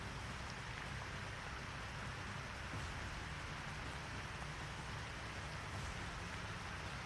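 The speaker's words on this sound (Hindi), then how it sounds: "बारिश है कि थमने का नाम नहीं ले रही है।" Heavy monsoon rain pours down during severe flooding in Gujarat in July, a steady, dense hiss that stays at an even level throughout with no voices.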